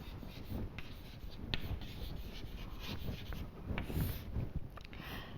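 A pen or marker writes out a probability formula, with scratchy strokes and taps in an irregular rhythm and no talking.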